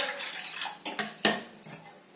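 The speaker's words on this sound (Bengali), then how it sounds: "এই যে এখন আমার আর আমার হাজব্যান্ডের জন্য চা বসিয়ে দিচ্ছি" Pots and dishes clatter while tea is put on to boil in a home kitchen, with brief metallic clinks and knocks over running water, fairly close and unaccompanied by talk.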